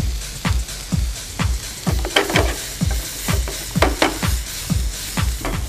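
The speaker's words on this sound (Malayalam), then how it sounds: "കോളിഫ്ലവർ ഒരുവിധം വാടി വരികയാണ്." Finely chopped cauliflower sautéing with salt in a pan, giving a loud, steady sizzle punctuated by rhythmic scraping stirs about twice a second, close up with no talking.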